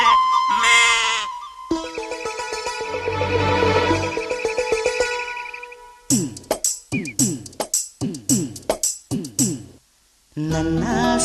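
Lambs bleat in a song, with a run of short, rhythmic bleats following sustained musical tones, loud and close.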